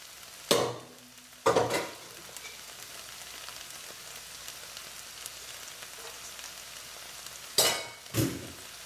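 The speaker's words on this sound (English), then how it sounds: "And the pasta goes right on top." Pasta tipped into a full pan of chicken, bacon, kale and tomato with the heat off, heard as a few loud scraping stirs and tosses over a faint sizzle in an otherwise quiet kitchen.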